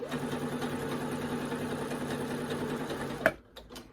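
A sewing machine runs steadily, stitching rows inside the seam allowance on the bodice of a self-drafted sundress. It hums at a close, even pace for about three seconds, then stops abruptly, leaving a few faint clicks.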